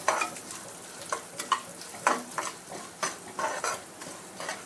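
Chana dal roasting in a pan for flaxseed chutney powder, with a spoon repeatedly scraping and stirring in uneven bursts over a soft, steady dry sizzle; close and moderately loud, no talking.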